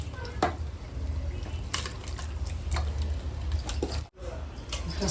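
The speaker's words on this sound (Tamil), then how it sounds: "இதில் வந்து நான் கழுவி வச்சுருக்கேன் மட்டனும் போடுறேன்" Washed mutton tipped into a pan of masala and stirred, a steady close wet sizzle with squishy scraping and soft clatter throughout, briefly cut off near the end before resuming.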